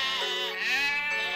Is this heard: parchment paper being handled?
no